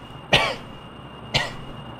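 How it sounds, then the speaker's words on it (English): Two sharp coughs from a man, roughly a second apart, each a brief harsh burst close to the microphone over quiet background hiss. "you might have noticed I just started to cough while I was saying that"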